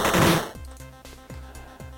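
Machine gun fire in the video game Super Amazing Wagon Adventure: a noisy burst at the start, then a run of evenly spaced, punchy retro-style shots, each dropping quickly in pitch.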